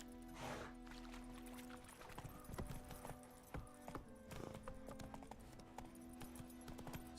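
Horse hooves clip-clop at a steady walking rhythm in The Witcher 3, the distinct thuds fairly close and moderately loud over a low ambient game drone, with no voices.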